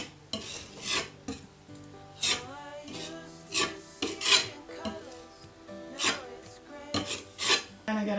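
A nail scraping peeling finish off a wooden staircase step, rough rasping strokes in short bursts with brief pauses between, close and moderately loud, no talking.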